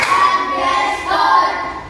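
A fourth-grade class of children in an Indonesian primary school classroom claps in unison on command, a crisp group clap with a teacher's voice in the room.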